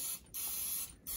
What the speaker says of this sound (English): So I'm going to spray the top of these.